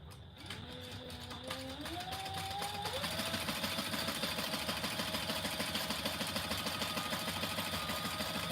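A sewing machine top stitches a compact clutch at 1/8 and 1/4 inch, running with a steady, rapid mechanical whir and rhythmic stitching that picks up speed after a few seconds and then continues evenly, fairly close.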